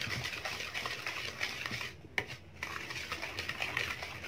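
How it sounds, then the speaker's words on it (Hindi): Dry powdered cake ingredients are stirred together in a bowl for a quick pan sandwich cake, giving a steady, close scraping and rustling that runs continuously with only a brief dip partway through. "ये हमने सारी पाउडर चीज़ें मिक्स कर ली।"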